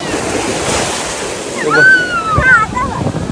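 Sea waves surge and wash strongly onto Pirwadi beach with loud, continuous surf and wind buffeting the microphone. A faint whistling tone and a voice rise briefly partway through.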